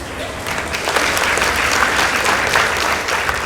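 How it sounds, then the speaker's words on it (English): A school audience applauds Sengani Girls High School after a competition against Ngalalya Secondary School, a steady dense wash of clapping for a few seconds with no voices over it. "Let's give them a round of applause"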